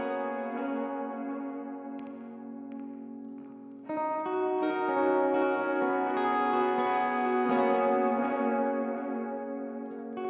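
Electric guitar through a boost pedal with a sweeping boost circuit, playing sustained, ringing chords with echo and modulation; the tone grows louder and fuller partway through and plays alone without talk.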